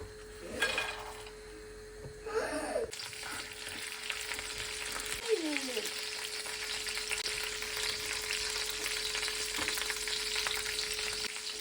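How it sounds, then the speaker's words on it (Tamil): Hot oil sizzles and crackles steadily as peanuts, cashews and curry leaves fry, with a few stirring scrapes and clinks of a utensil against the pan early on. "இப்போ இது நல்லா தாளிக்கும்"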